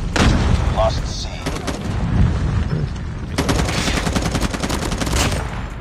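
Gunfire in Call of Duty Mobile, with sharp repeated shots in quick bursts, loud and close, including shotgun blasts. A voice talks underneath parts of the firing.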